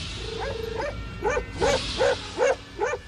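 Tibetan mastiffs guarding a nomad tent bark in a series of about six deep woofs, spaced roughly evenly at moderate distance, over a steady outdoor background hum.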